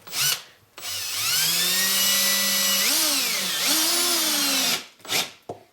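A power drill drives a screw into a wooden shim while beehive boxes are assembled, whining up to a steady high pitch, dipping and rising under load for several seconds, then stopping, with brief knocks before and after.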